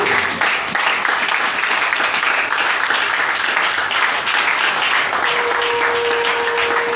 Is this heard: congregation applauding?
yes